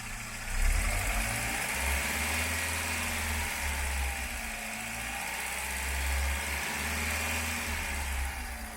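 A VW Gol engine with an oil pressure warning light fault holds at about 2000 RPM, a steady mid-pitched mechanical hum with a slight swell early on, close and continuous with no speech.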